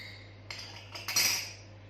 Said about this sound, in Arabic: نخلطوهم